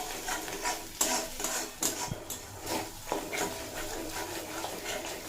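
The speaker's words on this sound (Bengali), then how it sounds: "মশলাটা কষানোর সময় অনবরত নাড়তে থাকতে হবে" Masala with cashews being stirred constantly in a pan for an egg curry, steady close spatula scraping over a soft sizzle, with a few sharper clanks against the pan.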